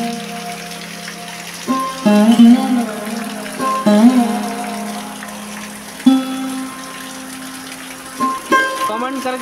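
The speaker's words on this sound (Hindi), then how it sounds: "देखिए बहुत तेज पानी आ रहा है।" Heavy rainwater gushing in a strong stream in front of a house during monsoon rain, a loud continuous splashing wash with surging bursts over several seconds, no talking.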